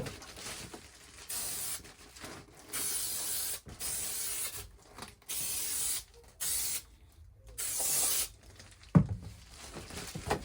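Carpet adhesive sprayed inside a Ford Transit van during insulation work, delivered in repeated hissing bursts of a second or so each, separated by short pauses, close and fairly loud.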